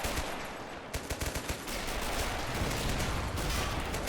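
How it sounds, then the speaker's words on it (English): Explosions and rapid gunfire fill a war video game battle in which US Marines invade an island, with sharp booming blasts and bursts of automatic fire layered into a loud, continuous roar. "Oh, huge explosions here, though."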